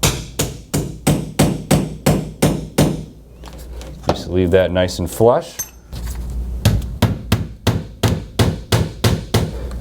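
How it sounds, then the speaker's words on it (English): Hammer driving nails through shiplap boards and finishing them with a nail set during a vintage shiplap install: a steady run of sharp, evenly spaced near strikes, pausing midway while a person speaks, then resuming. "that's how you face nail with a hammer and nail set"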